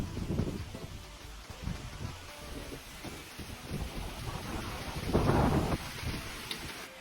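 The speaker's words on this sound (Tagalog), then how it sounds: "Ito naman yung lakas ng ulan." Heavy rain pours down in a dense, steady hiss outdoors, with bursts of louder gusting or rumbling noise, and no voices.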